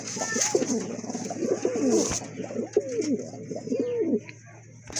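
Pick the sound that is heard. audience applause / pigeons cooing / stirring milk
pigeons cooing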